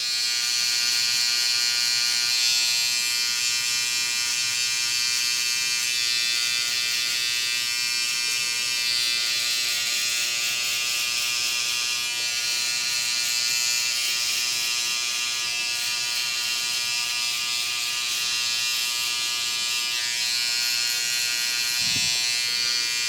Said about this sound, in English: Now we're gonna go trimmer.